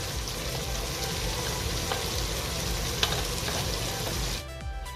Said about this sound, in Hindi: अब हम 2-3 मिनट के लिए इसको अच्छी तरह भून लेंगे।